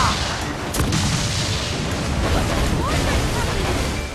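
Pirate-ship cannons in Assassin's Creed IV: Black Flag fire in dense, rumbling booms during a naval battle, layered under game music and effects while a crewman shouts orders.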